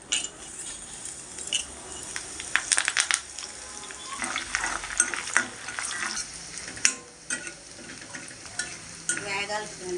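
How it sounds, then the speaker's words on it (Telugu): Tempering spices hit hot oil in a pan and sizzle and crackle, with sharp pops and spattering bursts. Utensil stirring and scraping clatters in between, fairly close and moderate in level. "పోపు సామాన్లన్నీ వేసేస్తున్నాను"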